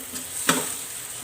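Masala for paneer bhurji roasting in a pan as milk is added a little at a time, a brief steady sizzle with one sharp stirring scrape midway.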